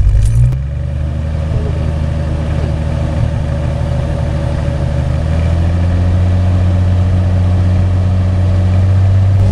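Jeep Cherokee engine starting up and settling into a steady, loud idle, a continuous low hum close by with no talk.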